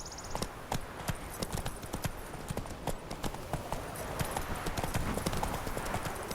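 Roach, the horse in The Witcher 3: Wild Hunt, trotting with crisp, rhythmic clip-clop hoofbeats, close and steady throughout over faint outdoor ambience.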